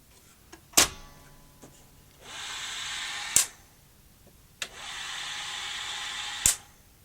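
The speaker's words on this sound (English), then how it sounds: "I can see the capstan is spinning when that noise is going on." A Toshiba Betamax V5470B video recorder runs its capstan motor with a steady whirring hum in two stretches of a few seconds each, separated by sharp mechanical clicks, close and with no talking.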